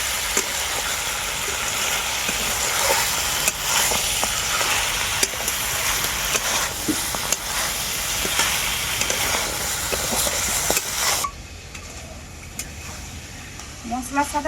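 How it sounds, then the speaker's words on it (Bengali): Mutton with cumin and spices sizzles loudly in a kadai as it is stir-fried, with steady hissing and occasional scraping of the spoon, softening near the end. "তো এরপর আমি খুব ভালো করে মাংসটাকে কষিয়ে নেব মশলার সাথে"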